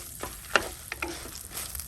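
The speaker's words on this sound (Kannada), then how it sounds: "ಮಸಾಲೆನ ಮೊದಲಿಗೆ ಹುರಿದುಕೊಳ್ಳುವ." Dry chilies, Byadagi and round chilies, roasting in coconut oil in a pan for Mangalorean masala, with a soft steady sizzle broken by a few sharp stirring clicks and scrapes, close and fairly quiet with no talk.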